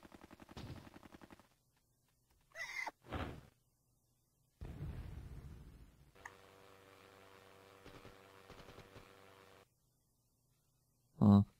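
Muffled explosion bursts in the Hogs of War video game, short and fairly soft, separated by silence and game sound effects, with someone talking between them.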